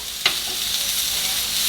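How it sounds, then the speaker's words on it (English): Sausages sizzle steadily in a frying pan, a continuous close crackle broken by a quick scrape or clack as they are turned early on. "So I'm just gonna flip them so all the sides will get crispy like that."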